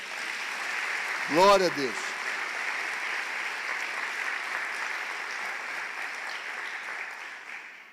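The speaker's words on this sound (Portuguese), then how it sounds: "Aplaudem o Senhor Jesus." A church congregation applauds in sustained, dense clapping that fills the whole stretch, swelling briefly as one voice calls out a short praise, then holding steady to the end.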